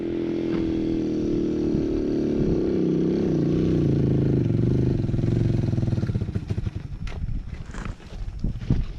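A dirt bike engine revs loud and steady while climbing a big hill at Metcalf, its harmonic drone holding strong before breaking up into rougher, uneven bursts and clatter near the end.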